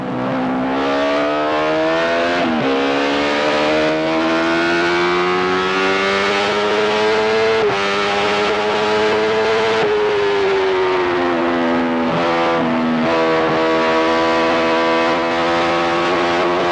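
A Benelli racing motorcycle engine at the Isle of Man Manx Grand Prix is recorded on board, loud and close as it drops through the gears into first, the pitch falling with each shift and then rising again as it pulls away.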